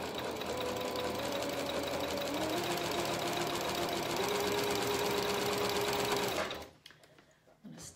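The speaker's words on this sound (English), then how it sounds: "I'm using that same narrow zigzag stitch with a 5/8 inch seam allowance" A sewing machine runs a narrow zigzag stitch along a 5/8 inch seam on a McCall's 7061 garment, a fast, even mechanical whir with a faint rhythmic tick, close and steady before stopping abruptly near the end.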